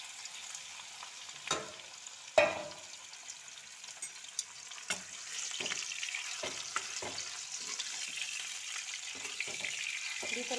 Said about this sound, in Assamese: তেল গৰম হৈ গ'লত মই মাংসখিনি দি দিছোঁ।